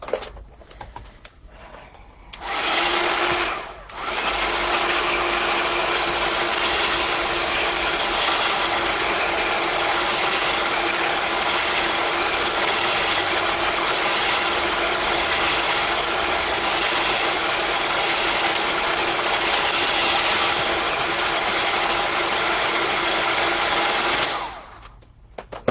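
A heat tool runs steadily for about twenty seconds, drying paint on an art journal page at a crafting desk, a loud continuous whirring blow that starts and stops abruptly with a brief dip near the beginning.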